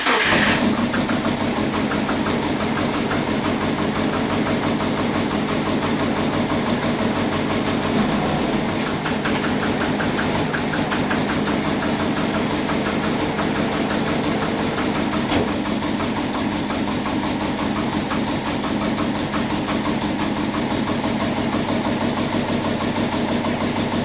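Big-turbo Subaru Forester converted to two-wheel drive, engine running steadily at a moderate, even idle with the wheels turning off the ground, a constant mechanical drone with no talk.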